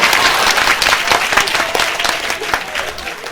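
Dense audience applause at a Gujarati stand-up comedy show, a crowd clapping steadily and loudly for several seconds with a few voices mixed in.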